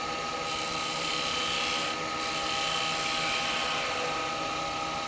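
A wood lathe hollows out a bowl with a carbide tool, giving a continuous, fairly loud scraping hiss and a whirring hum with no break, and no one talks over it.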